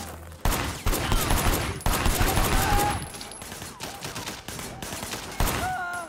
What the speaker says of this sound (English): Shooting at the guys over there.